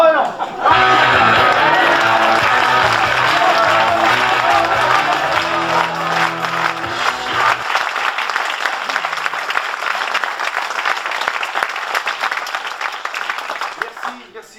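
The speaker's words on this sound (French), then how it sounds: "Merci beaucoup pour vos applaudissements" A theatre audience claps and cheers loudly for over ten seconds after a play, with music fading out early on; the clapping thins slightly toward the end.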